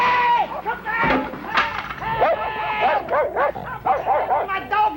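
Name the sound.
dog barking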